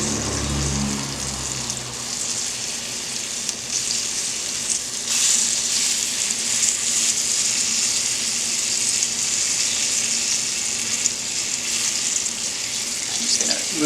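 Chicken pan-frying in plenty of butter on a stovetop, a continuous close sizzle and crackle running steadily throughout, with a brief low rumble at the start and no voices.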